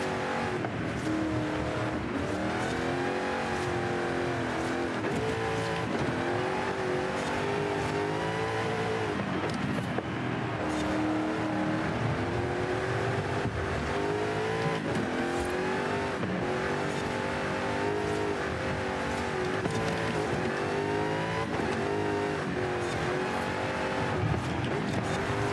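A race car in a racing video game roars continuously at close range, its engine pitch climbing and dropping through gear changes while tires squeal in repeated bursts through the corners.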